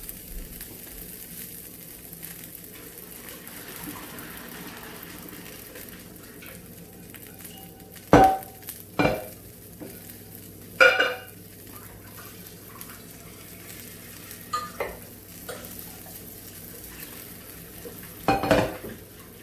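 Cooked noodles are dumped in a kitchen, heard as a few sharp clanks of pot and utensils with a watery splash against a quiet stovetop background, no one speaking.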